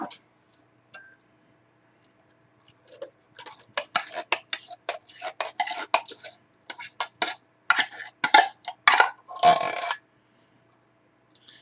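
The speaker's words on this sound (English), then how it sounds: "I'm going to go ahead and empty the 2 cans of cream of mushroom soup into this bowl." Two cans of cream of mushroom soup being emptied into a bowl for green bean casserole: scattered close clicks, scrapes and thick wet plops, starting sparse and getting busier before stopping abruptly.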